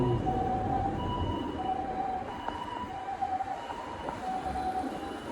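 An ambulance siren wails over steady street and traffic noise on a Japanese street in spring, its repeating tone cycling at a moderate distance.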